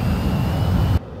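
A Su-27's twin jet engines at full afterburner in the DCS flight simulator roar loudly and steadily for about a second before cutting off abruptly to a quieter rumble.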